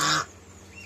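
Geese with their goslings in a goose house in Shayestabad, Barishal, in winter, giving one loud, brief honking call at the start before the room falls to quiet background.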